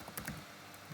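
Keyboard typing while a SQL query is entered, with a few soft, irregular key clicks close by and fairly quiet, no voices.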